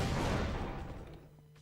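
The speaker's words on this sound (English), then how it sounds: "And the explosion in this game is so loud" A grenade blast in Half-Life: Opposing Force: a loud, broad boom that rolls off and fades over about a second and a half, with no talking over it.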